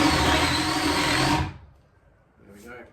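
A drill turning a 35mm Forstner bit whirs loudly and steadily for about a second and a half, then cuts off abruptly, leaving a quiet tail with a faint knock.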